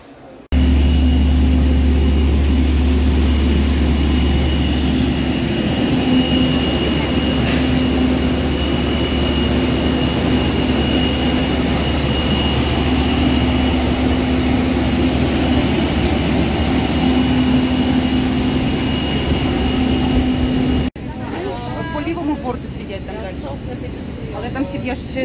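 Jet engines hum from inside an airliner cabin, a steady loud low roar with a constant whine on top lasting throughout, then dropping abruptly near the end as cabin noise shifts.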